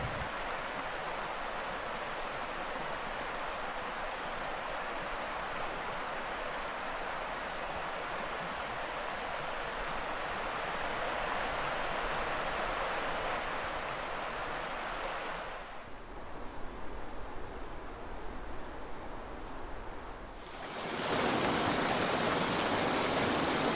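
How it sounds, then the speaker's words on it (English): Mild rain falls steadily outdoors on a hike in Scotland, a continuous broad hiss that dips briefly and then comes back louder, with no talking. "although now it's raining very mildly in comparison"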